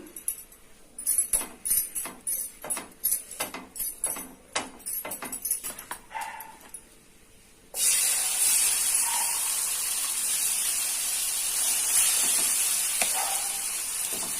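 Oil sizzling on a hot pan for a Maggi egg omelette: about seven seconds of scattered clicks and stirring taps, then a sudden loud, steady hiss of frying that carries on to the end, with no talking.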